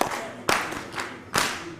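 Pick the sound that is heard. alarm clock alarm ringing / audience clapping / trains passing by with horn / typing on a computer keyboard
audience clapping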